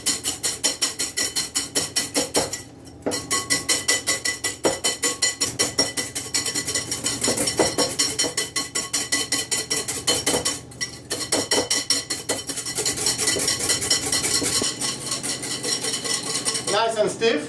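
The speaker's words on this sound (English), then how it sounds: "Now I'm going to stir it till I get to stiff thick." A meringue of egg whites and sugar is whipped by hand toward stiff peaks, the utensil clinking and scraping rapidly and steadily against the bowl, close and fairly loud, with two brief pauses.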